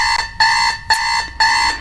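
Old 1990s alarm clock ringing, a loud, harsh electronic buzz in repeated half-second bursts with short gaps between them.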